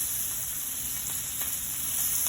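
Thick pork chops with a pronounced fat layer sear in a hot pan, giving a steady, close, bright sizzle of rendering fat that runs evenly without pause.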